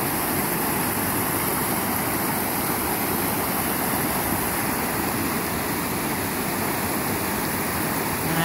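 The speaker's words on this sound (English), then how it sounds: "We have a waterfall here." Storm runoff after heavy rain pours over a normally dry waterfall in the lower Stone Canyon drainage, a loud, dense, unbroken roar of rushing water that holds steady throughout.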